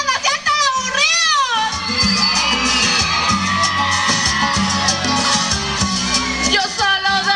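A crowd at a Día de la Antioqueñidad school celebration shouts, whoops and claps along to live music, with children's voices rising over a loud, continuous mix of cheering and singing.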